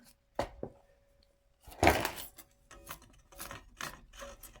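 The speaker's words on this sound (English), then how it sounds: "we'll clean up our excess glue with just a damp cloth" A damp cloth wipes excess glue from a freshly clamped wooden E. Ingraham mantel clock case on a workbench, heard as a few close, brief rubbing and scraping strokes separated by quiet gaps.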